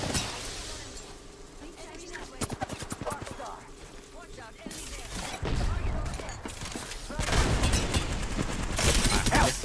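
Bursts of gunfire crack in Apex Legends during a fight, with rapid volleys and scattered single shots growing louder toward the end while players talk over the action.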